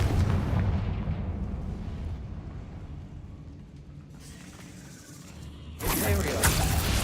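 A fire blast from the Confringo spell in the video game Hogwarts Legacy: a rumbling whoosh builds, then a sudden loud explosive boom erupts near the end, among other game sounds.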